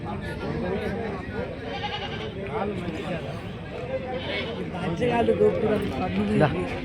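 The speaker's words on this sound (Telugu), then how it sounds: "చిన్న మేక బాగుంది" Goats bleating at a busy livestock market in Vikarabad, including a small goat, heard intermittently through a dense crowd of voices and market bustle, with people talking throughout.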